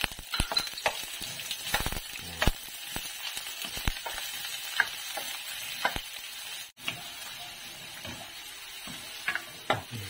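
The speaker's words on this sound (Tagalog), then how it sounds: "Magsosote muna kami ng one onion slice." A slice of onion sautés in hot cooking oil, giving a steady close sizzle and crackle with scattered sharp pops and occasional stirring clicks from a utensil against the pan.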